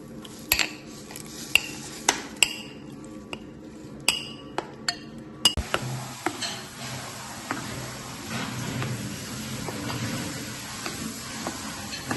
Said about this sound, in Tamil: கொஞ்சம் பெரிய பாத்திரத்துக்கு மாற்றிக்கிறோம்